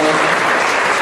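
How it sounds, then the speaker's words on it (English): Applause from a debate audience at Collin College, hosted by the secular students, a dense steady wash of clapping that stays loud and even throughout. "please, let's give a round of applause for our gracious host, the secular students at Collin College."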